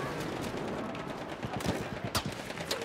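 Gunfire in the video game Battlefield 1, a multiplayer battle: a busy, noisy battlefield with scattered shots, a few sharp cracks standing out near the end.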